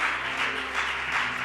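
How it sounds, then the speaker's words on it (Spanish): A church congregation at a Spanish-language service breaks into sustained applause, a continuous hissing wash of many hands swelling and easing slightly in waves, heard without speech. "Y le demos un aplauso a Jesucristo."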